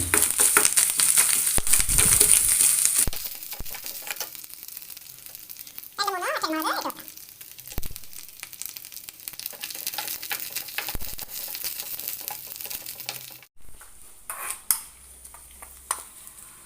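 Grated coconut roasting with curry leaves in a pan for Kerala erissery, scraping and stirring of a spoon against the pan with soft sizzling, intermittent clatter, and a person talking over parts of it.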